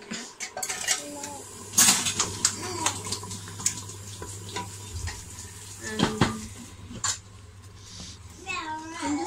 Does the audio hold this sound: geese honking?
no